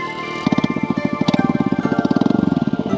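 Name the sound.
motorcycle engine running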